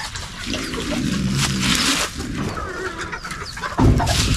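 Chickens cluck and murmur close by in a busy, continuous flock chatter, with a sharper squawk near the end.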